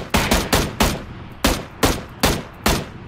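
Gunfire in the video game PUBG Battlegrounds: seven sharp, loud shots in an uneven rhythm, some in quick pairs, each with a brief decaying tail, and no talk.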